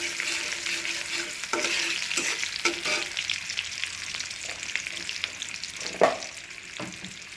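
Onion-garlic paste and spices frying in hot oil for a tempering, a steady close sizzle broken by repeated scraping stirs and a sharper clack near the end.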